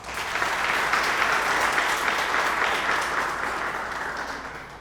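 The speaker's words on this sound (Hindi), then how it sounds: "ये जितनी तवानाई के साथ आज आप लोगों ने तालियां बजाई हैं" An audience at a NED University event applauds, with dense, sustained clapping that swells and holds for several seconds before easing slightly.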